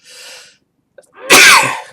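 A loud, close sneeze: a brief breathy intake, a pause, then an explosive burst that trails off.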